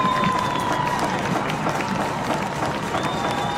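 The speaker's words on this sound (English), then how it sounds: "Bands playing, cheerleaders cheering, fans up" A football crowd at a high school game between Woodlawn and St. Amant at Dutchtown, a loud steady roar of cheering fans that fills the whole stretch, with a band tone faintly audible through it.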